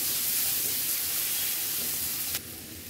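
Chopped onion and green chilli fry in a pan over high heat, giving a steady, loud, close sizzle and hiss that runs continuously and drops slightly near the end, with no talking.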